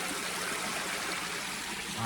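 A shallow river, roughly a hand-span deep, at a 4x4 off-road crossing spot, with steady broadband water rushing and trickling close by throughout, and no voices over it.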